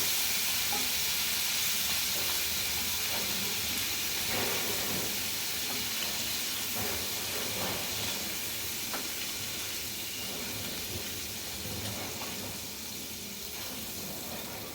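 Prawns fry in a pan for a mixed vegetable and prawn curry, giving a loud, dense sizzle and hiss throughout, with irregular stirring taps over the steady frying.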